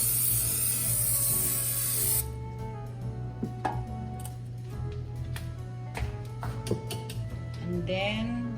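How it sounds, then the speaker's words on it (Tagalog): A cooking spray can hisses onto a baking pan for banana bread in one steady burst lasting about two seconds, followed by light clicks and taps of kitchen handling. "you need to spray so it doesn't stick."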